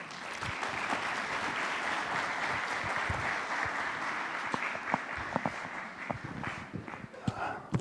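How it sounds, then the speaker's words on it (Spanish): Loud, dense applause from a seminar audience at a Bible seminar, welcoming a speaker, steady clapping throughout with a few sharper claps near the end. "Vamos a invitar con fuertes aplausos"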